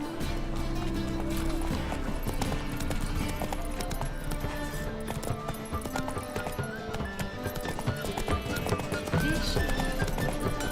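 A horse gallops with rapid, steady clip-clop hoofbeats and occasional snorting in the Witcher 3 Wild Hunt video game, loud and continuous over game music, with a voice briefly speaking.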